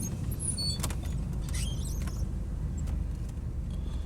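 A four-wheel drive vehicle in low range moves through a flooded road in Garden City, South Carolina, its steady low engine rumble continuous inside the cabin with faint splashes and creaks, no talk.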